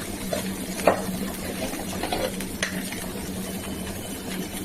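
Cumin powder frying and being stirred in a pan: a soft sizzle under scattered scraping clinks of a spoon against metal, fairly quiet and close, with no speech.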